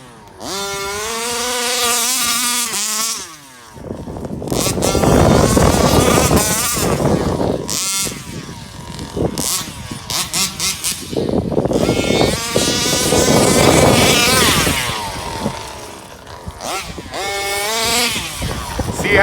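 A 34cc Rovan petrol RC car engine revs hard and drops off in repeated surges, buzzing loudly up close as the wheels spin on backyard ground, with a few short pauses between bursts and no clear talk.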